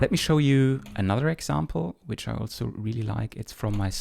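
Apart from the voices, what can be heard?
No distinct noise like a dog, phone or traffic.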